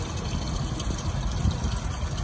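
Water draining steadily from an RV holding tank during dumping on a Grand Design Transcend Xplor, a continuous close rushing, gurgling flow with no pauses.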